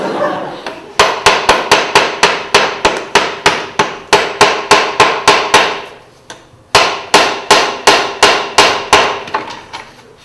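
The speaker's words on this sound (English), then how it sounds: "banana are making much better hammers" A banana used as a hammer, striking in a fast, loud series of sharp whacks, first a long regular run, then a brief pause and a second volley of blows, heard close up with no talk.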